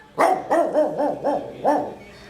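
Six sharp barks from a nearby dog in a steady, fairly quick rhythm, loud and close, with no one speaking.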